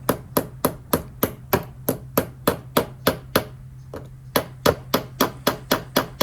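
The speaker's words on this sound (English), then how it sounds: "So now I'm just going to hammer that down into the wood." Steady hammer strikes drive a light clip into wood, about seventeen sharp blows at a regular quick rhythm with a brief pause midway, close and loud over a faint low hum.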